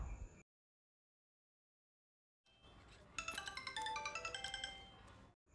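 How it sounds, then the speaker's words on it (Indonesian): After a stretch of near silence, a mobile phone in an apartment starts ringing with a bright, repeating melodic tone pattern, moderately loud, for about two seconds before cutting off. "Ponsel kembali berdering."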